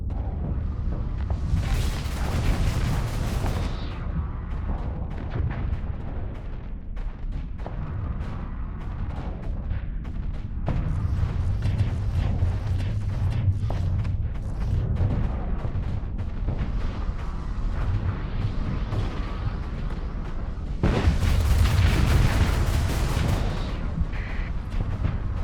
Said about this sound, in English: A lot of incoming fire.